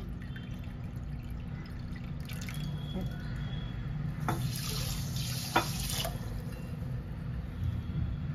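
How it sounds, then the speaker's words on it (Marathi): Water is poured from a cup into sugar for the syrup of motichoor laddoos, a faint splashing trickle over a quiet kitchen hum. "आणि आता त्याच कपाने 1 कप पाणी ओतायचंय।"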